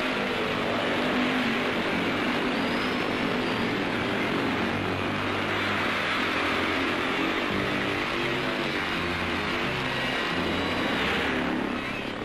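Speedway motorcycles racing in a heat of the 1968 World Final at Wembley, a continuous loud engine roar with shifting tones as riders pass, heard throughout with crowd noise and no pauses.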